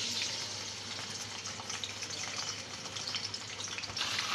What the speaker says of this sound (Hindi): ये देखें जी, इसमें चिकन सारी की सारी मैंने डाल दी है